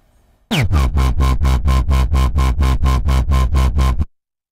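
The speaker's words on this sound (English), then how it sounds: "the distortion effect will make the bass much crunchier" A Sylenth1 synth bass patch with chorus and distortion plays a steady run of repeated punchy notes, about fourteen evenly spaced hits, loud and alone, then stops abruptly.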